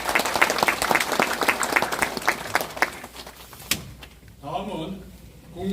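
Audience clapping at a farmers' meeting in Goheung with a party leader, a dense burst of applause that thins out and stops after a few seconds, followed by a voice speaking.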